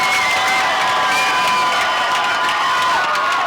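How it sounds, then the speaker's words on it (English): Crowd noise from the Robinson side at a 2010 high school football game against Malvern, a steady wash of cheering and shouting that stays loud and continuous throughout. "We could probably just let you listen to the Robinson crowd"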